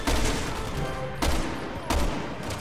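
Gunfire in Resident Evil 6, three loud, sharp shots at roughly even intervals over dense, noisy combat ambience, with no talking.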